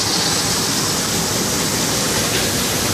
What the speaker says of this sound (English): You can see we have very efficient blower system